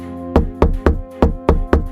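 Six firm knocks on a door, evenly spaced about a quarter second apart, each a sharp hollow thud with a short ring, close and loud against a quiet room.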